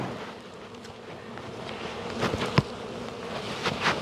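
Honey bees buzzing in an opened hive during a spring inspection, a steady close hum with wind noise on the microphone and a few brief handling knocks.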